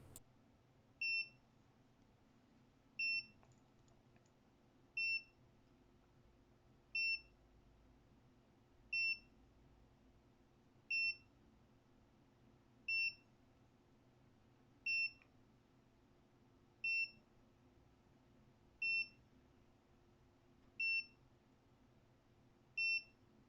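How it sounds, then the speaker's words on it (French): Twelve short, high electronic double beeps repeat about every two seconds over faint background hum, evenly spaced and fairly soft, from a Vifly Finder 2 drone locator beacon. "Votre VFly Finder va émettre des bips légers pendant 30 secondes."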